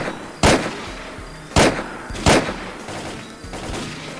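Three loud, sharp sniper rifle shots in a video game, spaced about a second apart. Each shot is followed by a decaying tail, and a fainter crack comes near the end.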